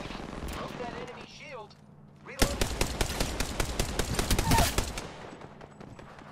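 Rapid bursts of automatic weapon fire from the shooter game Apex Legends break in after a quieter stretch, loud, clustered shots continuing for several seconds, with a voice talking over parts of it.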